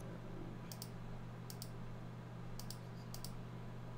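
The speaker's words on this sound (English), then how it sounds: "Sorry, keyboard. Keyboard alert." Keys tapped on a computer keyboard during an online chat, a few short bursts of quiet clicks spaced across the moment over a steady low hum, with no voices.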